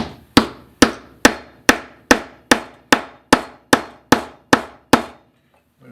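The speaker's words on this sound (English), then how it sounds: "I put it on there, take my hammer," A hammer taps a small wooden piece with a drilled hole onto a lathe's Morse taper, twelve sharp, evenly spaced knocks, close and loud, each ringing briefly before the next, then silence.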